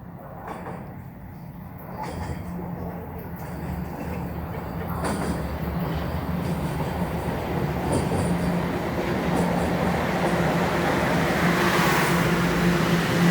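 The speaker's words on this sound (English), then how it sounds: "It sounds like the train is rolling in. The TTC." A Toronto TTC subway train rolls into a station with a rising, rumbling roar and a rail hiss that grows steadily louder over several seconds.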